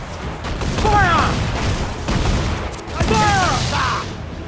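Ship cannons firing in the video game Assassin's Creed Black Flag, heavy booming volleys amid rumbling battle noise, with shouted voices over the gunfire.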